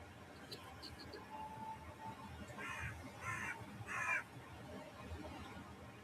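Crow cawing outdoors, several harsh caws in a short run near the middle over a faint background hum, with no talk.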